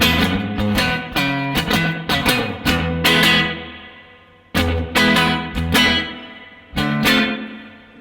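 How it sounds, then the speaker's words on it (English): An electric guitar played through a pedalboard on its normal reverb setting strikes a series of chords whose notes ring out and fade in smooth, lingering reverb tails, loud and alone. "normal reverb setting"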